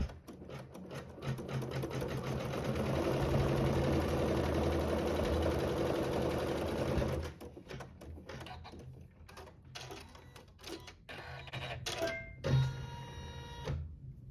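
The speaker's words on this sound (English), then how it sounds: "then we'll sew the top stitch" A sewing machine runs a continuous top stitch on a zipper pouch for about seven seconds, a steady close mechanical whir that then drops to scattered clicks and short stitching bursts.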